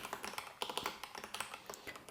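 Rapid, steady typing on a computer keyboard, a dense run of crisp, close key clicks lasting a couple of seconds, with no voice over it.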